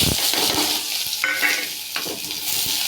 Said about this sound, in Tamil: எண்ணெய் சூடானதும் ஃப்ரெண்ட்ஸ் நறுக்கி வச்ச பூண்டு வெங்காயத்தை ஆட் பண்ணுறேன்